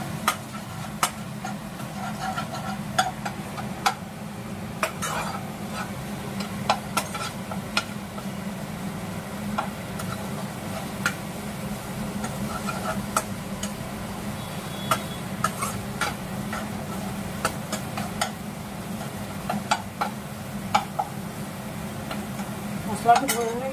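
Masala for a vegetarian aloo dum being stirred and sautéed in a pan with a little water, a spoon clinking and scraping in steady irregular taps over a low continuous hum, with faint speech in places.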